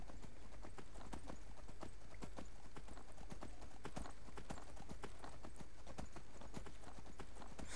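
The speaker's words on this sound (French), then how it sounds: "On y va, un petit peu de cheval, ça fait pas de mal." Hooves clip-clop steadily as a horse is ridden in Skyrim, a rapid, even rhythm that runs loud and continuous throughout, with no talk over it.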